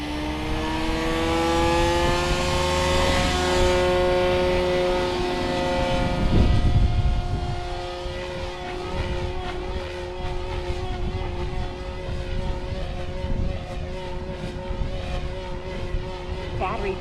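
A Goblin 500 RC helicopter motor spins up, its whine climbing steadily in pitch and holding loud and close, with the rotor's buzz growing steadier, and a voice speaking briefly over it.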